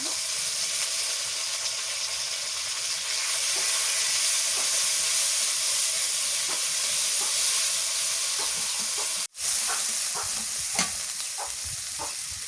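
Garlic paste and green chili paste frying in a pan, giving a steady, close sizzle and hiss with a few light stirring clicks and one sharp brief dropout near the end.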